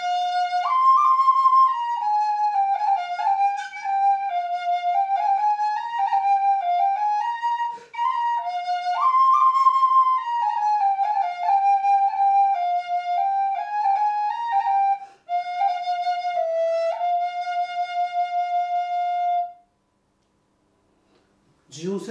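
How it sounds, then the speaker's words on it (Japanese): A breathy 14th-century-style recorder melody plays solo, smooth stepwise phrases with a few brief pauses, ending in a held note before stopping. "じゃあ14世紀の古の笛の音ですけども、"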